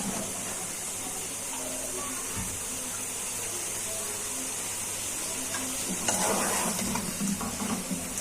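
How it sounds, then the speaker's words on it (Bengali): Eggplant pieces tipped into a pan of cooked-down spiced masala, giving a steady, moderate sizzle and hiss throughout, with a brief louder burst of frying near the end as the pieces settle in. "এখন মশলাটা কষানো হয়ে গেছে, বেগুনগুলো দিয়ে দিচ্ছি।"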